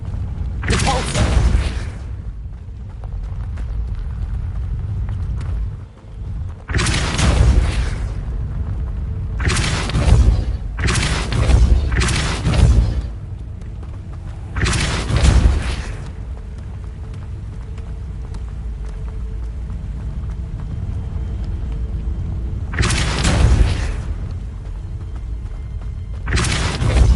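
Spell blasts from the Depulso force spell in Hogwarts Legacy, a string of loud booming thumps that come singly and in quick clusters over a steady game rumble, with gaps of several seconds between some bursts.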